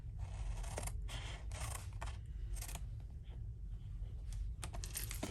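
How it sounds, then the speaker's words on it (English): Paper snips or scissors cutting through card stock for a stamped paper box project, a series of short crisp snips in quick succession, close and fairly quiet, with no talking. "So we're just going to cut those off on both sides."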